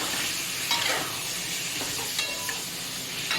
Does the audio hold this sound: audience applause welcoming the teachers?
no